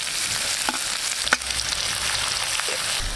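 Mustard seeds, split chana and urad dal, and green chillies sizzle in about two spoons of hot oil for a ghee masala idli, giving a steady close frying hiss with a couple of sharp stirring clicks.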